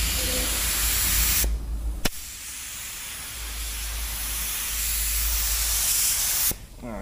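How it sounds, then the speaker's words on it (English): A steady, loud hiss of a paint spray gun spraying primer on a car, broken by short pauses and a sharp click, then resuming. "You see it's spraying nice and clean now."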